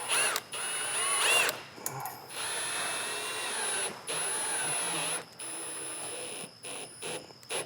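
A ratchet tightens bolts on a BMW F32 435i front lip in quick bursts of rapid clicking separated by short pauses, close up, with no talking.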